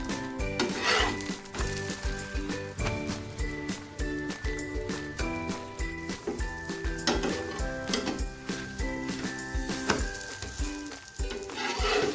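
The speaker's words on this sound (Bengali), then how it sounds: "সামান্য একটু তেল ছিটিয়ে পরোটার মতো ভেজে নেওয়া" A paratha frying in a little oil in a pan, a continuous close sizzle with repeated scraping and turning of a spatula against the metal, no voices.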